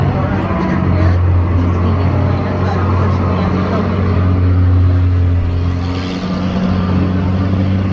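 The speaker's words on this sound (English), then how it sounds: "I can't say of any Canadian city that I've seen a boat truck go by." An amphibious boat truck drives past on a Halifax street, a loud, sustained engine drone with a steady low rumble throughout.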